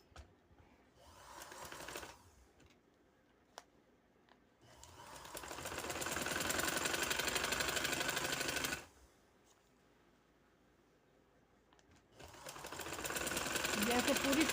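A sewing machine stitching trouser fabric runs in two long bursts, a loud, fast, even mechanical whir up close, with quiet pauses and a few isolated clicks between runs.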